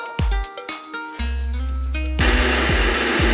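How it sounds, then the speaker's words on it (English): Kitchen blender whirring as it blends chili and spices for enchilada sauce, with short pulsed bursts at first, then a sustained loud motor whine with a rougher, grinding texture toward the end. "We blended our chili and ingredients in the blender."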